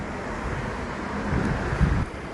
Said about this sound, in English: Cool wind.